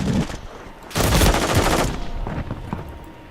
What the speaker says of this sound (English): what kind of fucking gun is that?